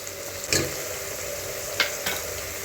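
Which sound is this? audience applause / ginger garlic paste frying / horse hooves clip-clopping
ginger garlic paste frying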